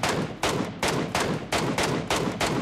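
Gunfire in PUBG Mobile: a steady string of about seven heavy shots, evenly spaced and close, each with a booming tail, with no talk over them.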